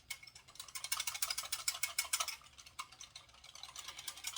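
Sauce is whisked in a measuring cup with a rapid, steady run of light clicking and scraping strokes from a whisk against the cup, close and moderately quiet, with no voices.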